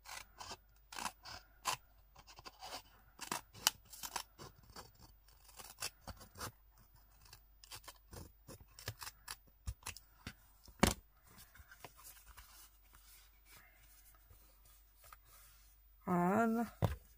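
Scissors snip paper for a scrapbook project in a series of quiet, crisp cuts spread across the stretch, with a brief louder rustle or voice near the end.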